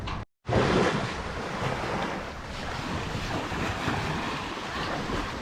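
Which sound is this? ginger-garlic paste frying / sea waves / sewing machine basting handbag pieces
sea waves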